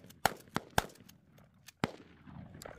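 Shotgun fired at an outdoor shooting range: four sharp, loud reports, three in quick succession and one after a short pause, each decaying quickly into quiet.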